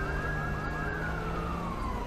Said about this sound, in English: I hear a cop. Do you hear a cop? I hear sirens,